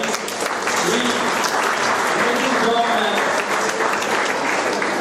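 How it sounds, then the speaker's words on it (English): Audience clapping for a participant named Hari at a cyber peace fact-checking training session: steady, dense applause fills the whole clip, with a voice speaking over it. "Please clapping for Hari."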